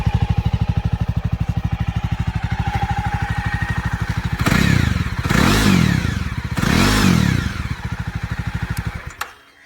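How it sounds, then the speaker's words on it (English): Close up, a 2020 Jawa Classic BS6 motorcycle with a chrome dual-tip exhaust idles evenly, then is revved sharply twice, each rise and fall distinct, before dropping back to idle and cutting off abruptly. "that's the sound of Java Classic."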